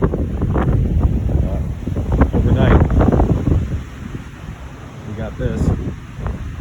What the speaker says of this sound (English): it's really windy and it's really cold